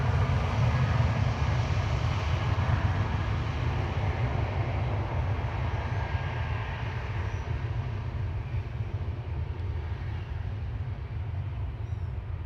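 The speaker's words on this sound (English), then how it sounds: "Jetstar off to Sydney" Jetstar airliner taking off for Sydney from Gold Coast Airport, a constant heavy low-end engine roar that fades slightly toward the end, with no voices.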